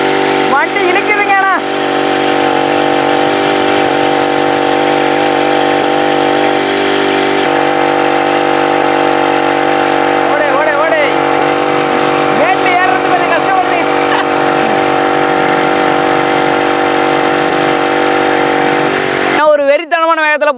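A home-built motorized bicycle with a 35cc two-stroke engine runs steadily, giving a loud buzzing drone with a few rising and falling revs. It cuts off abruptly near the end, and a voice is heard briefly.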